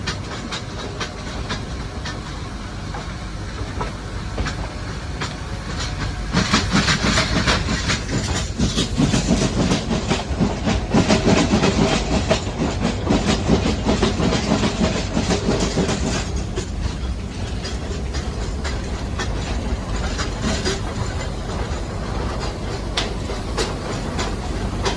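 The Ooty toy train rolling along its rails, a steady loud rumble with a continuous rattling clatter that builds and holds throughout, heard from on board.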